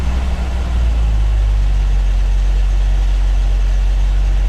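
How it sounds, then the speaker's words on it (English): A 1973 Jeep CJ-5 engine runs at a fast idle, giving a steady, loud, close low rumble with an even hum that holds without pause and has no talking over it. "Tachometer reads engine's running quick, so we'll slow her down a little bit."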